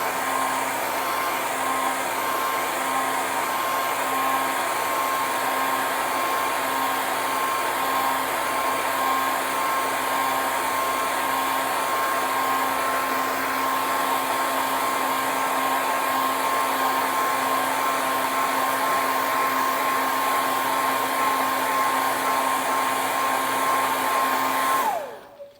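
A heat gun heat-sets paint on a glide bait fishing lure, blowing in one long, steady, even whir with a fixed tone before switching off abruptly at the end, with no voices.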